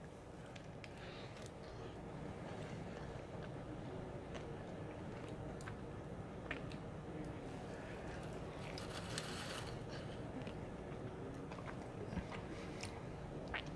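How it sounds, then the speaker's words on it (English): Close, quiet chewing of a bite of smoked beef back rib rubbed with Black River BBQ Bandalier beef rub and cooked on a UDS smoker, soft wet mastication running steadily throughout with no talking. "Let's go ahead and take a bite of this"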